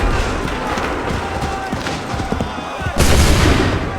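Musket volley in Assassin's Creed 3, a sudden loud burst of massed gunfire after a stretch of battlefield rumble and shouting voices.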